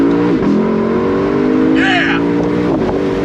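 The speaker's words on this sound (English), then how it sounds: "listen to the harmonious symphony of those 8 cylinders" The V8 of a 2022 Lexus LC 500 convertible revs loud and close, holding a rich, steady drone with a brief dip in pitch, while a voice briefly shouts excitedly over it.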